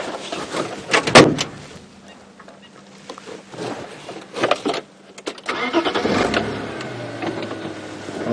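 A safari game-drive vehicle out in the bush cranks and its engine catches with a loud burst, then idles and rumbles unevenly as it shifts and turns around, with a few clunks along the way.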